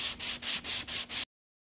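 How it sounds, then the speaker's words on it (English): A Ford Explorer rear bumper being block sanded with a 150-grit flexible sanding block: six even, rhythmic rasping strokes, close and steady, then sudden silence. "I'm just going to block sand this till it's straight"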